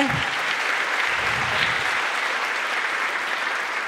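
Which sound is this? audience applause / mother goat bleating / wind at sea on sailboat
audience applause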